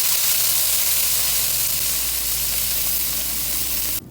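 Pork hits a hot pan with garlic and onion, letting out a loud, close, continuous sizzle with a bright hissing spatter that holds steady before cutting off abruptly near the end.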